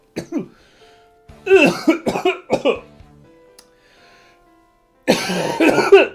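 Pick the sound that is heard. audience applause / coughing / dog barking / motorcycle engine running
coughing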